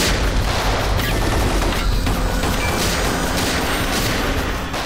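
Dense, continuous gunfire rattles without pause, a loud barrage of overlapping shots and booms filling the whole stretch.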